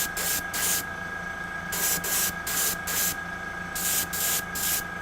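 Air compressor running in a miniature-painting setup, heard as a steady mechanical hum with rhythmic bursts of hissing air, fairly faint and with no voices.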